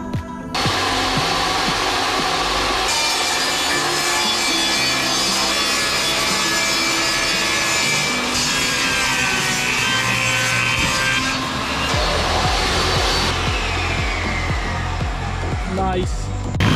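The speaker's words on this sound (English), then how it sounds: "So now I gotta cut stuff to just fill in the edges." Close and loud, a power saw cuts plywood into filler pieces for the floor edges inside a Ford E-150 van build, a continuous whining, rasping cut that ends with a brief rattle as the blade spins down.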